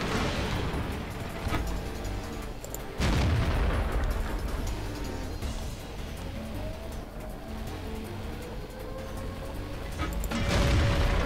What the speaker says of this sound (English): oh, artillery sighted!